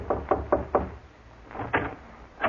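Knocks rap on a door in two groups, four evenly spaced then three more after a pause, moderately close with a dull wooden thud.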